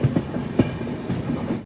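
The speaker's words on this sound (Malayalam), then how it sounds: "ട്രെയിൻ ഇപ്പോൾ കാമാഖ്യ ജംഗ്ഷനിലേക്ക് ഇതാ എത്തുകയാണ്" Silchar–Charlapalli Express train pulling into Kamakhya Junction near Guwahati, steady heavy rumble with rhythmic clickety-clack of wheels over rail joints, close and continuous, no voices.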